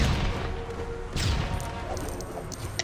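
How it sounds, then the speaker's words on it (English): Bombs explode in the Lego Batman video game, with a couple of muffled booms and crashes over a busy, moderately quiet game soundscape and no talking. "Batman didn't dodge the bombs and we blew up"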